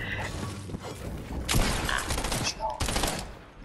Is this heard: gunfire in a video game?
yes